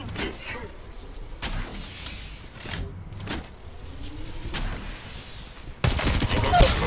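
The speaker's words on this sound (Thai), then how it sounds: "ทีมที่สองกำลังยิงใส่เรา" Bursts of enemy gunfire in the mobile battle royale game Apex Legends Mobile, several separate volleys spread across the stretch with a louder, denser burst near the end.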